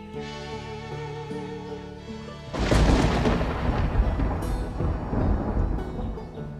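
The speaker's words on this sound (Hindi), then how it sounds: "काफी तेज बिजली कड़कने लगी थी" A sudden loud crack of thunder breaks in after soft music and rolls on as a heavy, sustained rumble through a storm in an animated Hindi story.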